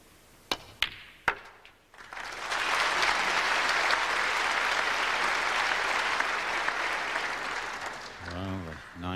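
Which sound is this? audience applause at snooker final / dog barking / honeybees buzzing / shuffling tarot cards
audience applause at snooker final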